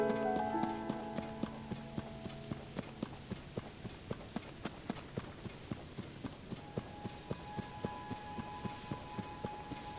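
Horse hooves clip-clop in a steady galloping rhythm of sharp, evenly spaced thuds in The Legend of Zelda: Tears of the Kingdom, continuing throughout with faint game music beneath.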